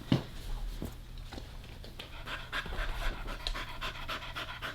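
A dog, tired after running around its kennel at an animal shelter, pants in quick, steady, close breaths with faint shuffling movement in the background.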